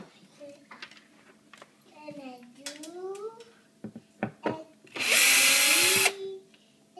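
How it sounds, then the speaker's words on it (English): A cordless power drill backs screws out of the bottom of a kitchen cabinet in one loud, close, high-pitched whir lasting about a second, after quieter tapping and handling sounds, while an adult and someone talk. "what I'm going to do is just drill to take the bottom screws out"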